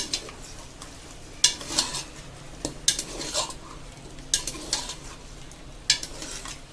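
Mutton is stirred with ginger garlic paste in a pot, with a metal spoon scraping and clinking against the pot in irregular bursts over a soft frying sizzle.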